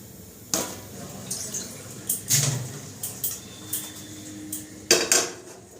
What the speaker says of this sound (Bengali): কড়াইটা বসিয়ে দিই কড়াইটা বসিয়ে তেলটা গরম করতে বসিয়ে দিই